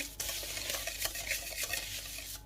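Eggless cake batter is stirred with a whisk in a bowl, a continuous close-up swishing and scraping with faint clinks against the bowl.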